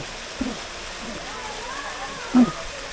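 Running water at Kakawayan Falls in Infanta, Quezon makes a steady, even hiss that fills the whole moment, with a couple of brief, faint splashes or voices poking through.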